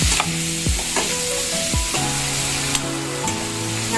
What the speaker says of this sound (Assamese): ভালকৈ মাংসখিনি সিজি যোৱালৈকে ভাজিব লাগিব।